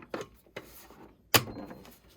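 A Losi Super Baja Rey 2.0 RC car's battery compartment door is fitted into place with one sharp, close snap, after two softer handling knocks.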